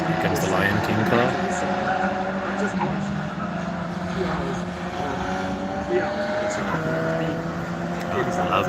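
A race car at the Kyalami Fun Cup endurance race roars past corner 1, a loud droning engine with shifting pitch as it passes, while someone talks throughout.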